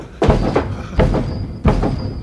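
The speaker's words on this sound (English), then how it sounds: "Whence is that knocking?" A stage sound effect in a Royal Shakespeare Company production of Macbeth: three heavy knocks on a door, loud and close, spaced apart with resonant thuds.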